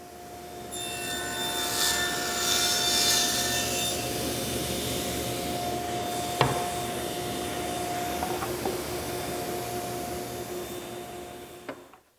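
A router cutting a small groove in wood, nibbling material away ahead of a sliding dovetail: a steady, close whining drone runs the full length with a couple of sharp ticks near the middle and end, no talk.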